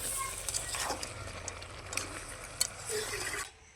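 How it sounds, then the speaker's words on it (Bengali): Goat meat being stir-fried with its fat in a pan for a curry, with steady sizzling and occasional scraping and stirring clatter close by, then cutting off near the end. "এখন মাংসর সঙ্গে চর্বিটাকে ভালো করে একটু কষিয়ে নিতে হবে"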